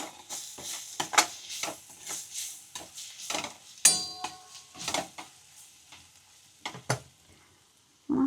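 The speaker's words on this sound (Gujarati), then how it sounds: "બધું મિક્સ કરી નાખવાનું." A spoon scrapes and stirs roasted turmeric through vegetables in a sizzling pan, with rhythmic scraping strokes every half second or so over a light frying hiss.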